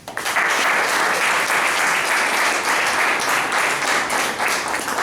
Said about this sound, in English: Shall we pass the minutes with an applause?